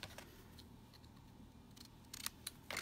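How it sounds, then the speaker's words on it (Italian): Scissors snipping paper by hand during a crafting session, a few sharp dry cuts clustered near the end after quiet shuffling, close and fairly faint. "qui mi azzardo a ritagliare a mano, però ho perso le forbici, eccole qua"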